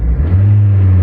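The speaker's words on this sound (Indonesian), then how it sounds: "biasanya dia nginjek gas langsung ngeget" A manual car's engine in neutral revs up as the gas pedal is pressed, a steady loud low roar that rises and holds for about a second.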